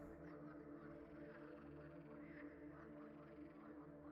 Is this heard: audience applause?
no